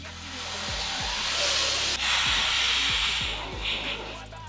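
Compressed air hissing steadily out of an air compressor tank, a loud continuous rush with a brief break near the middle, over a low repeating mechanical rumble.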